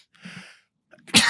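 A single loud, sharp sneeze bursts out near the microphone after a brief quiet breath and a soft intake of air.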